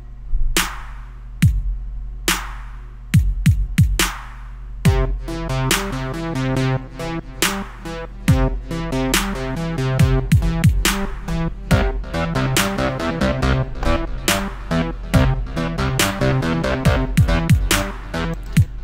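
Drums and two synthesizers arranged in an FL Studio 10 playlist play back together, a steady loud electronic loop of kick, snare and hats under layered synth chords and a bass line, without any talk.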